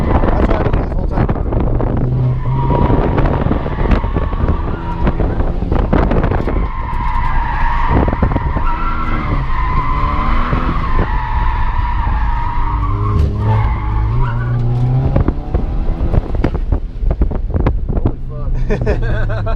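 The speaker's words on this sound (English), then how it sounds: "we drifted the whole corner" A Nissan 350Z drifts through a corner as its tires skid loudly for several seconds, mixed with engine roar and wind buffeting, with brief talk at the start and end.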